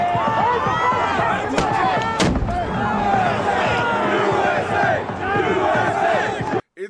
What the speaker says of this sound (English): Police started throwing flashbang grenades and spraying mace.